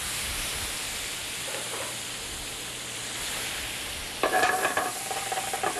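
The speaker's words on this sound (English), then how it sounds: "A little bit of chopped parsley, so you can hear that parsley fry in there" Chopped parsley and crab meat frying in a pan, a steady soft sizzle throughout that turns louder and crackly near the end, with no talking.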